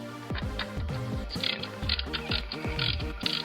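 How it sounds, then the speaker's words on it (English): Ratchet spanner on a long extension loosening a car intercooler hose clamp: rapid, steady rhythmic clicking of the pawl in repeated short strokes, close and alone with no talk. "You need to use such a long extension on your spanners"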